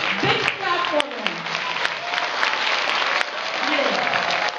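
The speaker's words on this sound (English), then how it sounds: "Big clap for them." An audience in a quiz event claps together in a continuous burst of close, lively applause while a voice speaks over it.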